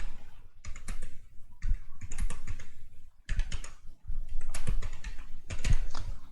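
Rapid, steady typing on a computer keyboard while filling in an online application form, with bursts of close, crisp key clicks separated by brief pauses; no talking.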